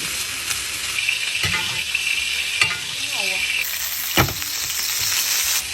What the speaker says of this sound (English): We're getting too hot, steak down.